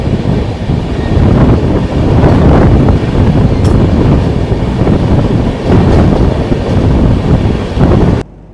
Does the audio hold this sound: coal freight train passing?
yes